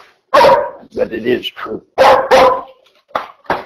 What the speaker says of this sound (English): Y'all have to excuse my wonder dog.